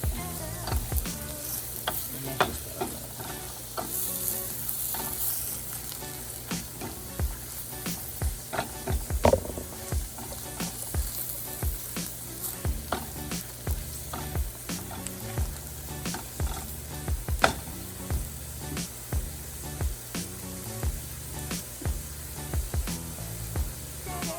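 Chicken and other ingredients sizzle steadily in a hot pan for a long stretch, with frequent clicks and scrapes of stirring over the constant frying hiss, and no talking.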